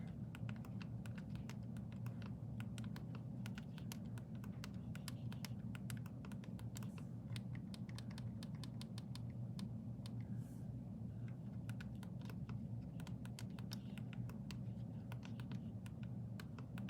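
Keys clatter on a computer keyboard as spreadsheet data is entered, a steady, fairly quiet run of rapid clicks over a constant low hum, with no pauses and no talking.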